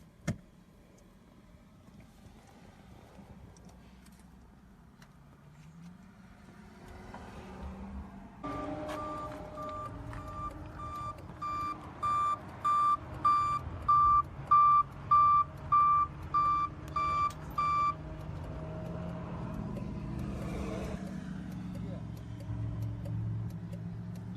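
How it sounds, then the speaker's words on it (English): A tow truck's reversing alarm beeps steadily in a regular series of about a dozen loud, evenly spaced tones over a low engine rumble, with faint outdoor background and brief voices around it. "it's a tow truck right here"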